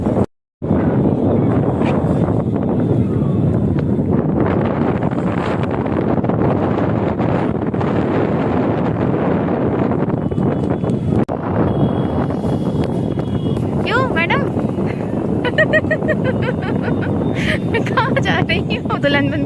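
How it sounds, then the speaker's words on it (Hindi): Strong, cold wind roars steadily and loudly across the microphone at Ram Jhula in Rishikesh, a constant buffeting rush that lasts throughout with little letup. "फील किया ये हवा कितनी ठंडी, कितनी तेज़ हवा चल रही थी। और ये सिर्फ और सिर्फ राम झूला पे ही चल रही थी।"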